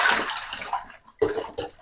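Water is poured into a container while making lemon water at home, two gushing, splashing bursts separated by a short pause, close and fairly clear with no talking.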